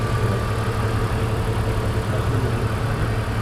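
A 2003 BMW Z4 2.5 with an M52 engine and five-speed manual idles steadily close by, a low even hum holding for a few seconds with no one speaking.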